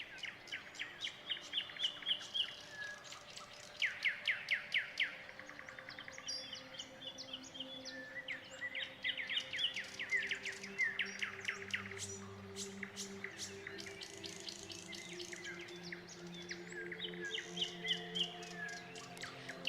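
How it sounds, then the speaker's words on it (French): Small birds singing in leafy trees, a lively mix of rapid chirps, trills and tweets from several birds at middle distance, repeating in bursts over a soft steady outdoor background. "des petits oiseaux qui se cachent de branche en branche"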